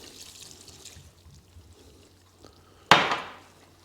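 Ice water splashes into a large batch of ground sausage meat for Bauernbratwurst, a sudden short pour near the end that quickly fades, after a quiet stretch of faint room noise.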